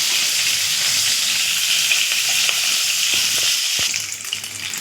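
Bay leaf and cumin seeds tempering in hot oil for a bottle gourd and prawn curry give a loud, steady sizzle that holds for several seconds, then thins out slightly near the end.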